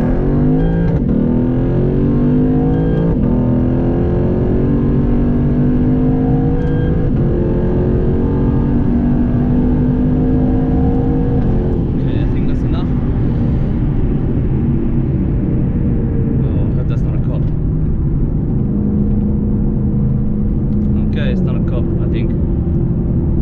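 A straight-piped Lexus IS-F with a 420 hp 5.0-litre naturally aspirated 2UR-GSE V8 pulls hard through the gears, its loud engine drone climbing in pitch, dropping at each shift, then settling. Brief higher noises sound over the constant rumble, heard from inside.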